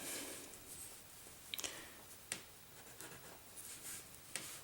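Pen or marker writing out a chemical product on paper or a board, a faint soft scratching with a few sharp taps, quiet and close with no talking.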